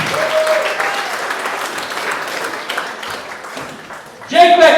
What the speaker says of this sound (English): Please keep that round of applause going for Linda Barrow.